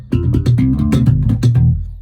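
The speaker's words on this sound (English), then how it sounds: "So slap bass is a very percussive sort of a thing" Slap bass guitar played percussively, with a handful of sharp thumb slaps and popped notes in a punchy rhythmic pattern over deep sustained low tones, close and loud with no talking.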